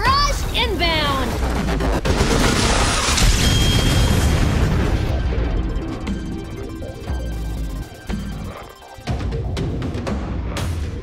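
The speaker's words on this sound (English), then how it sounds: "Artillery barrage inbound!" Artillery barrage in the video game Atlas Reactor, a dense run of booming explosions and rapid blasts that thins out after several seconds, with a game voice callout over the din.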